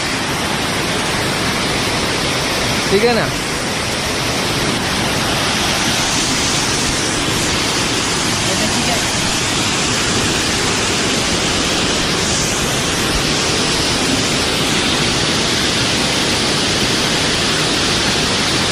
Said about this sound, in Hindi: ये देखिए यहाँ पे बारिश हो रहा है ऐसे